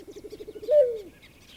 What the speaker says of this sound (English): The white-faced owl, small to medium-sized and fairly common.